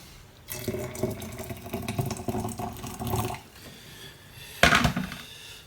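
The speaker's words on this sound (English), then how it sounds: "Add our hot water." Hot water pours into a jar holding a die-cast Matchbox Kaman Seasprite K-118 helicopter body and chassis soaking in paint stripper, a steady liquid rush of about three seconds followed by a brief louder splash.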